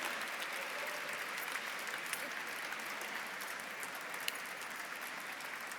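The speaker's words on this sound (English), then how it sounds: "let's have a round of applause for these nice young men who are now in our program" Audience applause at a scholarship fund dinner, steady dense clapping from a large room throughout, even and sustained with a few sharper claps standing out.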